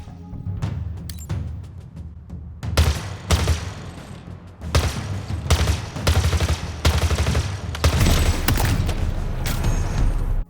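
Needler weapon firing in the video game Halo Infinite, bursts of rapid repeated shots with gaps between, loud and close, with thuds and mechanical clatter mixed in.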